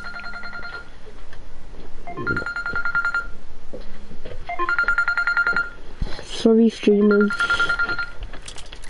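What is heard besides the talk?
telephone ringing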